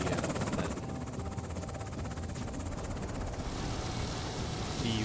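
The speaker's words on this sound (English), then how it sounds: "Helicopters coming" A CH-47 Chinook helicopter in the game Afghanistan '11 thrums with a steady, rapid rotor chop under a broad engine roar, moderately loud and holding constant throughout, with a slight shift in tone partway through.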